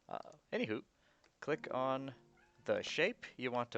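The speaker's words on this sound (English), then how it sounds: "sorry, that was my cat." A house cat meows several times close to the microphone, drawn-out calls in the middle of the clip, with a person talking just before and after.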